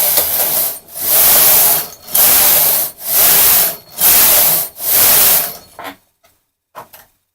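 A knitting machine carriage sweeps back and forth across rows of stitches in waste yarn, giving loud whooshing, clattering passes roughly once a second, each cut off by a short pause, then a few faint clicks as it stops.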